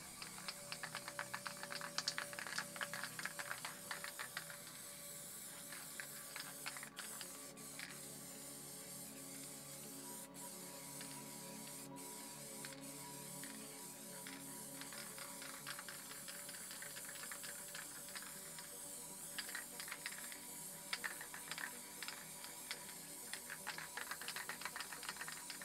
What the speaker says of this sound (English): Quite like this cap and this valve system, doesn't let too much paint out. Sprays really nice.